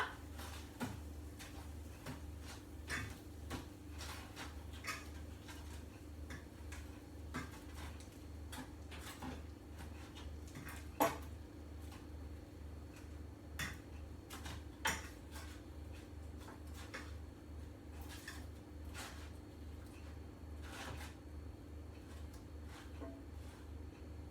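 Metal fork and spoon clink and scrape against a hot roasting tray while roast potatoes are turned over, with scattered light clatters over a steady low hum, fairly quiet and without talk.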